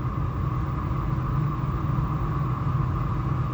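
An old-timey car engine rumbles steadily at a constant low idle with no change in pitch, sounding close and continuous with no talk over it.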